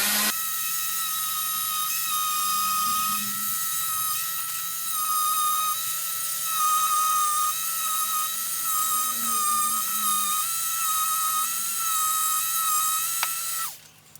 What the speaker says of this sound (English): we'll see if we can carve away with the Dremel